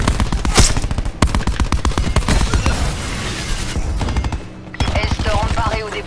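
Rapid machine-gun bursts from Call of Duty Black Ops 4, loud and close, a dense rattling stream of shots with brief pauses and sharp single cracks, under faint game sounds.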